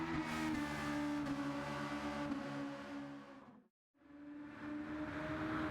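The engine of an Audi RS 5 Turbo DTM '19 race car in Gran Turismo 7 drones steadily and loud, then cuts to near silence for a moment before the engine note returns at full strength.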